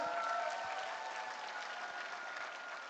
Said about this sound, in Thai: ทุกคนปรบมือให้กับความมุ่งมั่นของตัวเองครับ